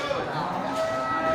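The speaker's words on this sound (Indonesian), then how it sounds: "sapi super besar ya, kategori untuk sapi potong" Very large beef cattle moo at a busy cattle market, a sustained low lowing call under steady crowd noise and background chatter.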